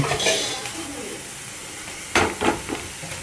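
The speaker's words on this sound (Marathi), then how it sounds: "अशी परतून घेतली, हलवून घ्यायची" Sliced potatoes fry in a pan with a steady close sizzle, while a utensil stirs and scrapes them, giving a few clinking, scraping strokes near the end.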